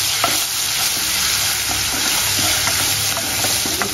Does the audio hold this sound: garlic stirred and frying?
yes